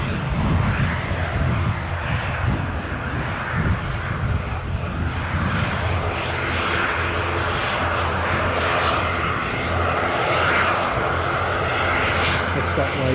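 An Aer Lingus airliner at Newcastle airport runs its engines in a steady, fairly loud roar and whine that swells slightly over several seconds, heard from nearby outdoors, with voices faintly in the background.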